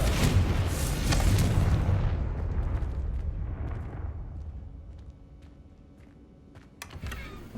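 The Confringo fire spell in Hogwarts Legacy bursts with a loud, booming explosion that rumbles on for about two seconds, then fades into a lingering crackle, with a smaller burst near the end.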